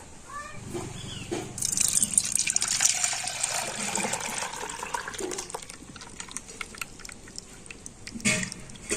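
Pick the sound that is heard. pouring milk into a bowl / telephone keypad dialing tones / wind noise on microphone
pouring milk into a bowl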